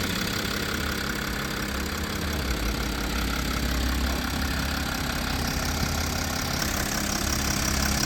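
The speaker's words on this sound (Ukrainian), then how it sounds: "Двигунчик працює ідеально просто." A 2021 Mercedes-Benz Sprinter van engine idles steadily nearby, a constant low rumble with a faint rhythmic knock and no talking.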